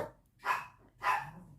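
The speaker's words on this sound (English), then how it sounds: "Don't know what Karen's barking at" A dog barks twice, a second apart, medium-loud and fairly close, with quiet room noise in between.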